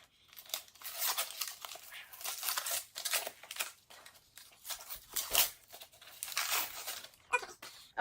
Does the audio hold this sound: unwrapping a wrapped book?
yes